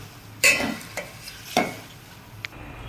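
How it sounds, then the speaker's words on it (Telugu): Grated raw mango, curry leaves and green chillies are stirred into rice for mango pulihora, with a few close scraping strokes of a spoon against the pot in a quiet kitchen and no voices. "తురిమేసిన మామిడికాయ ఆ తర్వాత ఇంకొంచెం పచ్చి కరివేపాకు ఈ మూడు పచ్చిగా కలుపుతాం అనమాట కలిపి చూపిస్తాను మీకు"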